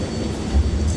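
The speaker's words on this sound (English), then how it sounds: "now the train has entered service" Low rumbling of a local train standing at a station platform as it enters service, a steady close, loud mechanical drone with no voices.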